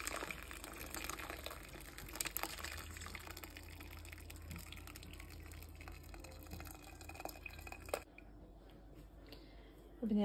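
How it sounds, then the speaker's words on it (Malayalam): Hot homemade rose syrup is poured through a sieve, making a steady close trickling and splashing that runs for about eight seconds before cutting off, leaving a quieter tail. "ഇപ്പൊ ഇത് ഞാനിവിടെ അരിച്ചെടുക്കുകയാണ് കേട്ടോ"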